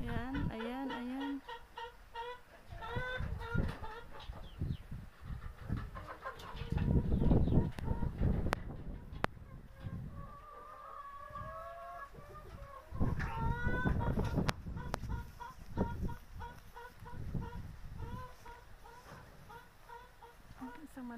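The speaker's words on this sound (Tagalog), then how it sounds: "Madaming manok sa loob. Kaya maingay." Many chickens cluck and squawk continuously inside a farm shed in Taiwan, a busy overlapping clamor with occasional louder calls rising and falling.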